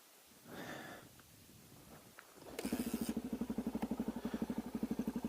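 A motorcycle starts up nearby and settles into a loud, even, pulsing engine putter as it pulls away, following a few quieter clicks and rustles, with no talk.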